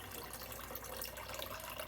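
Water drains and trickles from a mesh bag of scoured raw fleece, a soft continuous splashing and dribbling that stays fairly quiet and even, with no voices.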